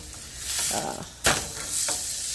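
Pork searing in a hot pan gives a steady sizzle with brief stirring and scraping sounds, including one sharp louder clatter partway through, all close and without voices.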